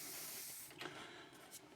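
Airbrush spraying craft paint onto a stack of paper towels, a soft, faint, continuous hiss that thins out midway and returns in short bursts.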